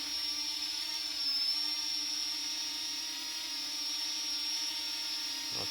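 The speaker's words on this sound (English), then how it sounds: "looks like the drone is working" A Parrot ANAFI drone hovers nearby, its propellers giving off a steady high-pitched whining buzz over a constant mechanical hum, fairly faint and unchanging.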